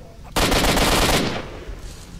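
Burst of AK-47U automatic fire in S.T.A.L.K.E.R.: Shadow of Chernobyl, a loud rapid volley of about a second that cuts off and rings out briefly.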